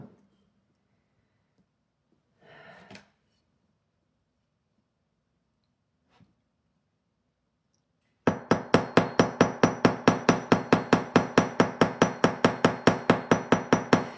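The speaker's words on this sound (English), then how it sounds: "And then I'm going to hammer." A hammer strikes wire shaped into a square spiral wrap: after near silence and a brief rustle, a fast, even run of about two dozen sharp, close metallic taps follows.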